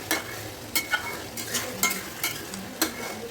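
Chicken sautéing in a pan for a Bengali chicken curry, with a steady close sizzle broken by several sharp scrapes and clatters of a spatula stirring against the pan, no talking.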